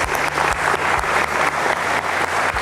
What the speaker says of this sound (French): Alexis, on l'applaudit pour la Normandie.